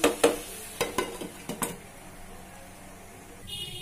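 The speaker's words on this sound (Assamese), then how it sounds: "এয়া মই এতিয়া আকৌ অলপ চাউল লৰাই দিব লৈছোঁ" Rice being stirred in a pot while making chole sana, a cluster of sharp utensil scrapes and clinks at the start, then a quiet simmering hiss with a faint tone near the end.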